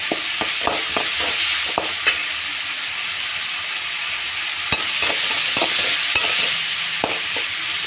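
Tomatoes sautéing in a pan for a broad bean gravy, with a constant loud sizzle and repeated spoon scrapes and taps as they are stirred, close by, no one speaking.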